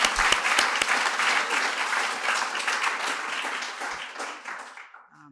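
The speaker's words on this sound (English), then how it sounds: "That is worth a clap." Audience applause at a legal services justice forum in Minneapolis, a dense burst of many hands clapping that swells quickly, holds steady, then thins and fades out after about five seconds.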